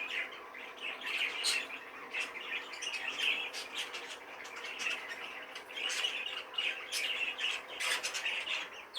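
Breeding pair of caged birds, a hen and a cock, calling continuously in close, busy chirps and squawks that overlap in an uneven rhythm, with no voices.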